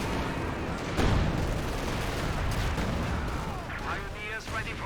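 Continuous booming gunfire and artillery from a Company of Heroes battle, including a StuG assault gun in action, loud and dense throughout, with a commentator's voice layered over the explosions.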